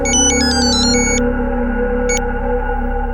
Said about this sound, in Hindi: पुलिस का फोन था, दिलीप हॉस्पिटल में है।